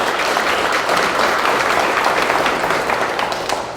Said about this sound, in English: So a round of applause for those two